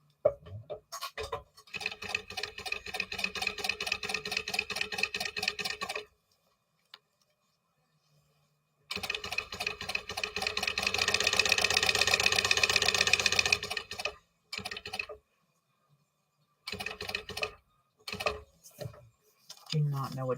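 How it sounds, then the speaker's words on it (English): Sewing machine stitching across the four corners of a bag's handle, a close, rapid mechanical chatter in several bursts with pauses between, running louder in the middle stretch and then in short stop-start spurts. "I am sewing across all 4 corners because it's going to be a raw edge"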